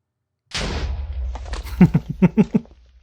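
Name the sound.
TNT explosion in Minecraft video game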